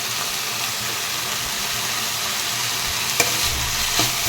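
Vegetables sautéing in a little oil, a loud continuous sizzle close up with a couple of brief scraping clicks from a stirring utensil near the end, no voices.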